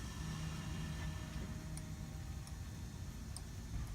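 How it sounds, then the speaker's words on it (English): RB20DET ignition coils in a Datsun 240Z engine build fire as the CAS is spun by hand, giving faint, sparse clicks over a steady low hum. "And then you hear the coils."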